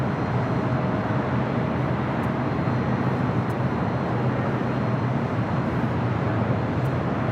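Embraer E175 jet airplane at LAX, a continuous even rumble and roar of engines, steady and moderately distant, with no voices.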